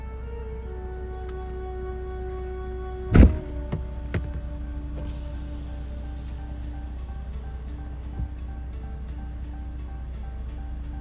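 Steady low rumble of a car engine idling with the vehicle parked in the woods, a constant drone throughout with one sharp knock near the start and faint small clicks, no talking.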